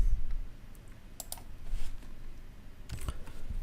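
Computer mouse clicking, a few crisp close clicks in small clusters, some in quick pairs, over a quiet background with no voice.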